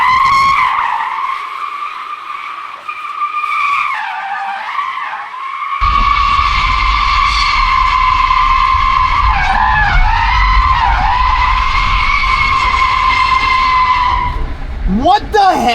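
A Tesla drift car skids hard with sustained squealing tires, the high screech wavering as the car slides, loud and close with the motor whine underneath; people talk over it briefly.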